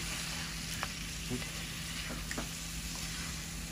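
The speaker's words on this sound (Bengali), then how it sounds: "আমরা ডালের বাগারের জন্য জিরা দেওয়া হয়েছে তেলের মধ্যে" Cumin seeds sizzling in hot oil for tempering dal in a home kitchen, a steady crackling fry with a faint low hum underneath and no voices.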